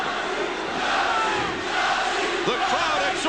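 A large boxing arena crowd roars and chants steadily throughout, loud and dense, urging on Prince Naseem Hamed during the second round of his fight against Daniel, with no clear single voice standing out.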